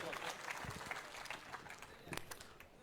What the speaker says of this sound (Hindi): एक बार जोरदार तालियों के साथ अभिनंदन और स्वागत।